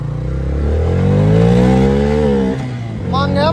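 A Bajaj Freedom 125 CNG motorcycle running on petrol in first gear, its engine loud and close as it revs up steadily, holds, then eases off before picking up again.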